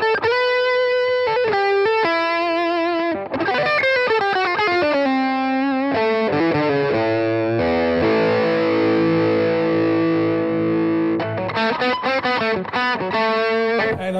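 An electric guitar plays a distorted tone through an Artec EXP frequency expander. Single notes and sustained bends are picked up close, with a held chord in the middle and quick phrases at the end, and nobody talks.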